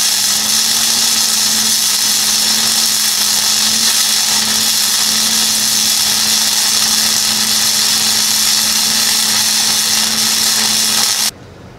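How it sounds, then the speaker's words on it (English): Welding a bolt onto a scrap metal rat rod go-kart frame, a steady loud crackling hiss with a low electrical hum running continuously for about eleven seconds before cutting off abruptly. "Tack this bolt on here. So we'll just go ahead and weld it."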